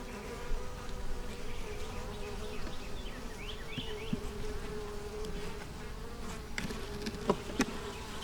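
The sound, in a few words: honeybees buzzing in an opened hive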